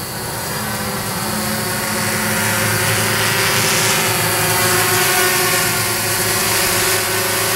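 Hexcopter drone in an outdoor flight under manual throttle control, giving a steady, dense whine of many spinning rotors that stays loud and close throughout with slight swells, and no voices.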